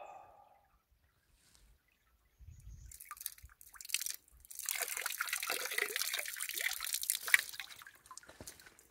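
Spring water at the Geumgang spring on Geumgang mountain drips and trickles close by, starting with a few faint drops and then swelling into a steady splashing run of water with crunchy, crackling detail.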